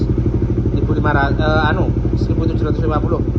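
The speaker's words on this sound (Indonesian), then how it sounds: "Sekarang open throttle. Ini saya setting di 1750." A motorcycle with an Aracer RC Mini X ECU idles close and loud in a fast, steady, throbbing pulse, then revs with the throttle opened, rising briefly and falling back to idle.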